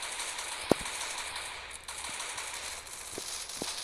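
Sparse gunfire in Free Fire MAX ranked gameplay, one sharp shot followed by a few fainter reports over a low, steady game background.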